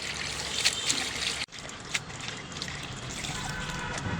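Leafy greens washed in water, with a steady close trickle and splashing that runs throughout, a brief break partway through, and no talk.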